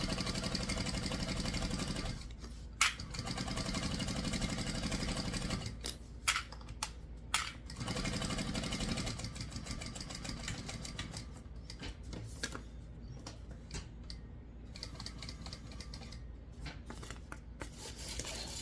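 Sewing machine stitching along the side of a tote bag, a fast continuous mechanical whir with brief pauses and restarts, close and steady with no talk.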